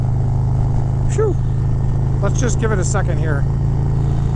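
A 2023 Harley-Davidson Road Glide ST 135 Stage 4 motorcycle engine drones in a deep, steady low rumble at riding speed, loud and continuous beneath a rider talking over it.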